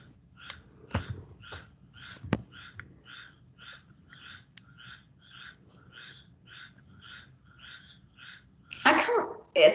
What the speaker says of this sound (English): I can hear some frogs.